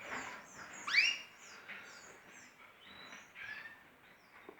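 Canaries chirp in a breeding room, a few bright rising tweets and short calls scattered over quiet, soft room noise, one sharper call standing out near the start.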